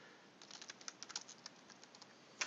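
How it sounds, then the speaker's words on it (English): Someone types on a computer keyboard, a quiet, close run of light, irregular key clicks that ends with one sharper keystroke. "I'll type in"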